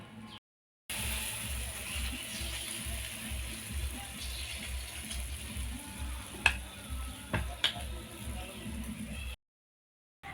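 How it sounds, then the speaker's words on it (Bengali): Tiffin snacks frying in oil in a pan for a quick Bengali breakfast, a steady close sizzle with a few sharp ticks and pops, running quietly after a brief pause at the start. "আর এই একই রকমভাবে সব টিফিনগুলো আমি ভেজে নেব।"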